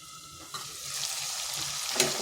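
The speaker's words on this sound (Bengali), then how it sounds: "তাতে আলুটাও ভাজা ভাজা হয়ে যাবে" Potato pieces fry in a covered pan over medium-low heat for an egg dish, giving a continuous soft sizzle that grows slightly louder, with a few sharper pops.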